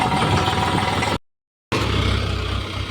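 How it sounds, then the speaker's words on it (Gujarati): A tractor engine runs close by with a steady, loud mid-pitched drone and low rumble, briefly cut off by a half-second gap of silence before resuming. "હવે નીકળી જાય અમારા કેવલભાઈનું ટ્રેક્ટર"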